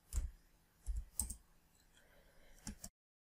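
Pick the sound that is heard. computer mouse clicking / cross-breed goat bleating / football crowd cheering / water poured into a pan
computer mouse clicking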